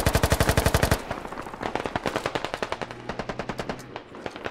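Rapid automatic gunfire in a favela shootout video game, a fast close burst of evenly spaced shots followed by a slightly slower, steady stream of loud rounds that tapers near the end.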